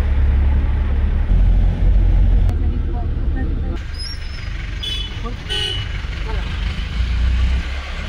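Road vehicle noise with a horn toot as a car pulls away after passengers step out with luggage on a trip home from Puri; steady low rumble fading slightly, with a brief honk and background voices.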